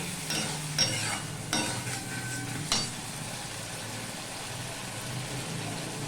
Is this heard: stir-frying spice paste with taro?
yes